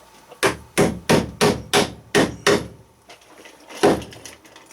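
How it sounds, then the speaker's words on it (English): Seven sharp, evenly spaced hammer blows drive J-clamps holding PEX waterline pipe across a wooden joist, loud and close, followed by a pause and one final strike. "Now it's time to put some clamps to it."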